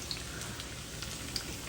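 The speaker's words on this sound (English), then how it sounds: "you're deep frying these, right?" Food deep frying in plenty of oil gives a faint, steady sizzle with scattered light crackles and pops.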